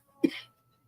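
A single short, close cough bursts out sharply and fades quickly, followed by near silence.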